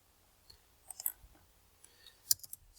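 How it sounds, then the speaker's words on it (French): A computer keyboard is used to delete typed text, producing sparse, soft, close clicks and taps at irregular intervals in a quiet room. "si je supprime avec mon clavier ma réponse,"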